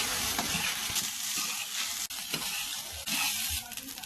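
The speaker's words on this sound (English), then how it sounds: "toss until rice is well coated in the soy sauce" Vegetable fried rice with soy sauce being tossed and stirred in a hot pan, a steady close sizzle with scraping and stirring textures running throughout, no talk.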